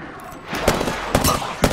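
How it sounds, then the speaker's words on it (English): Gunfire in Apex Legends: a few sharp, loud shots and short bursts crack out at irregular intervals over a steady background rumble of gameplay. "where's that shooting from?"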